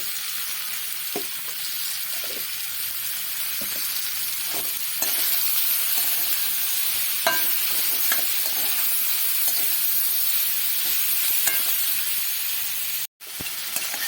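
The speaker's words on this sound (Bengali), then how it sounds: "পটলগুলো দিয়ে ভালো করে পেঁয়াজ রসুনটাকে সুন্দর করে ভেজে নেব" Onion and garlic fry with pieces of pointed gourd and a pinch of turmeric in a pan, giving a steady close sizzle broken by regular scraping stirs, with one brief pause near the end.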